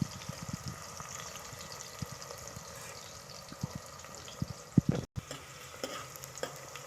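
Onions frying in a pan for pav bhaji, a soft steady sizzle punctuated by scattered clicks and scrapes of stirring, with one brief dropout near the end.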